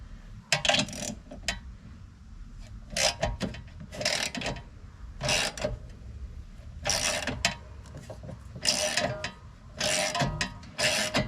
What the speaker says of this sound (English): we're going to go ahead and remove the sway bar link